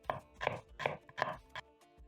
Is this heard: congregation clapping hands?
no